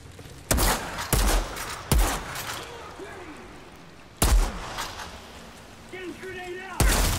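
Gunfire in the shooter game Outriders comes as about five loud, sharp blasts spaced irregularly over several seconds, with quieter gaps between them where faint game voices and effects are heard.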